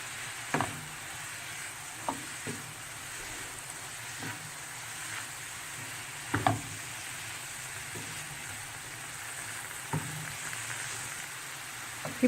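Mushroom pepper fry with chilli powder being stirred in a pan, a steady quiet sizzle with light scraping strokes recurring every couple of seconds, no voices.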